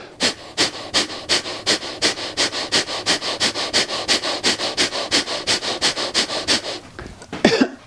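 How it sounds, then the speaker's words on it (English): Breath of fire in Kundalini yoga: a long run of rapid, forceful nasal exhalations in a steady even rhythm, close and loud, ending with a deeper breath. "how to do breath of fire and Kundalini yoga"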